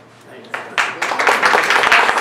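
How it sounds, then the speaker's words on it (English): Applause at a second-anniversary celebration, starting with a few scattered claps and building quickly into loud, dense clapping from a crowd. "Huge round of applause."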